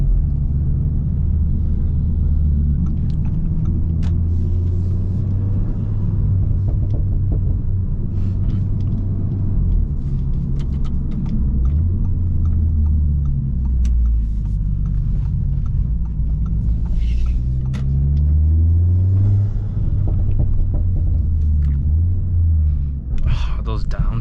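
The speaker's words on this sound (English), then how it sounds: "Yeah, them downshifts are a lot crispier now." An Audi S3 with upper and lower inserts drones low and loud on a drive, with engine pitch rising and dropping through several downshifts and someone talking over the rumble.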